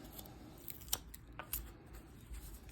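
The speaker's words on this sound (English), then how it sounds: "So we're going to do it with a pull cut." A knife making pull cuts into wood while carving a bust, giving a few sharp, faint slicing scrapes and clicks, close by and otherwise quiet.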